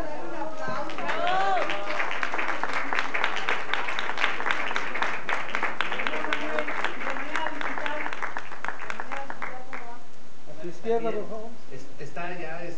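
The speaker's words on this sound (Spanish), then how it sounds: "Vamos a darle un aplauso." Applause at a press conference marking a gold record award for a Mexican pop singer, a loud burst of clapping from the room that gradually fades, followed by people talking.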